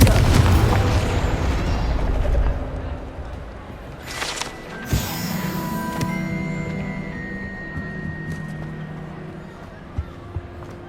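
A Confringo fire-blast spell exploding in the game Hogwarts Legacy, a deep booming burst followed by crackling debris and ringing game effects, over a dense background of combat sound and music.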